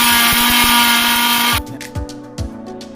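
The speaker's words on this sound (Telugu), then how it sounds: "దానిలోనే వేయించిన ఎండుమిర్చి, చింతపండును కూడా తగినంత ఉప్పుతో కలిపి మిక్సీ పట్టుకోవాలి." A kitchen mixer grinder whirs loudly while grinding roasted dried red chillies, tamarind and salt for gongura chutney, then cuts off partway through, leaving a few dull knocks and clatters.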